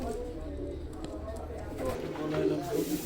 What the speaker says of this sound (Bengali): ওমান টেডি একদম পিওর ব্লাড লাইনে ওমান টেডি কবুতর